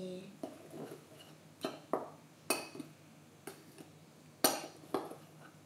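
A utensil knocks and scrapes against a bowl while batter is mixed until smooth, giving irregular close clinks and taps at a loose rhythm, with quiet talk around them.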